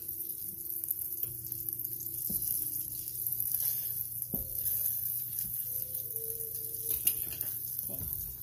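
A crusted tilapia fillet fries in a small pan, giving a continuous close sizzle and crackle with occasional louder pops and spatters throughout, no talk over it.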